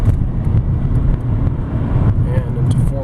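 A 2003 Honda Accord EX with a 5-speed manual pulls away after shifting into third, its engine a steady low drone heard from inside the cabin under road and wind noise.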